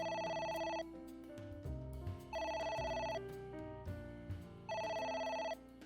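Telephone ringing in the video game Ai: The Somnium Files, three bright repeating ring bursts about two seconds apart over a steady low game music bed, with no talking.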